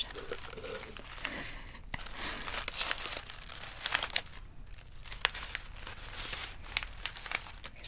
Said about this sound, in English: Here's a little bonus crinkling for you guys.